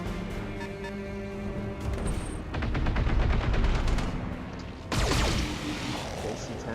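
AC-10 autocannon shots in BattleTech on a river crossing map, a rapid string of loud heavy reports that swells into a dense burst and is followed by a second sharp volley, with mechanical hum beneath.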